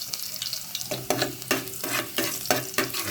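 Garlic frying in hot cooking oil in a pan for a vegetable dish, a steady close sizzle broken by repeated louder scraping stirs at roughly half-second intervals, with no talking.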